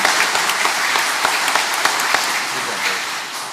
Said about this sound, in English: If the audience would please join me in giving our board one more round of applause